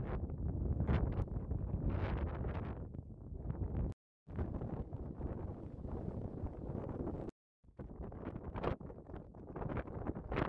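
Gusty wind at a clifftop castle ruin buffets the microphone in long rumbling bursts, cutting out briefly twice, with no voices.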